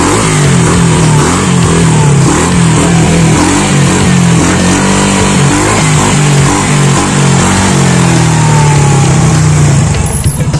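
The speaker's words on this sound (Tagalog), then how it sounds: "Rinig nyo naman mga kabrando ang tunog ng kanyang makina, yung galit ng makina niya patungo sa tambucho." A motorcycle engine revs loud and close through a JBT version 3 aftermarket exhaust, giving a sustained throaty drone with a wavering pitch for about ten seconds and no talking.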